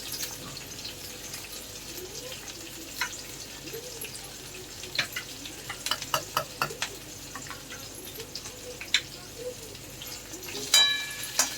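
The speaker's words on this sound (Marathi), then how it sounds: "आता हा मी कांदा घालत आहे सांबारसाठी" Onion frying in oil with garlic for sambar gives a low background sizzle, with intermittent clinks and stirring scrapes, moderately close.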